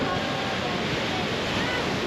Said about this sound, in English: It is getting crazier and crazier as we are so close to Horseshoe Falls.